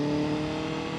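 A motorcycle pulling away from a stop in traffic gives a loud, close engine drone with steady harmonic tones in a brief burst.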